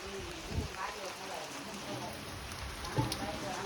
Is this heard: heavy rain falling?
yes